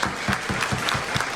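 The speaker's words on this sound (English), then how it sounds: "Can we get a round of applause for the people who made today happen?" A Durga Puja audience claps together, a brisk run of about half a dozen distinct close hand claps in quick rhythm, with no talk over it.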